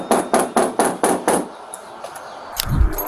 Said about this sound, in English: The officers called out to the residents and knocked on the door multiple times